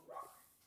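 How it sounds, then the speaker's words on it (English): A dog gives a single faint bark in the background, brief and distant, with nothing else around it. "Oh, that's my dog."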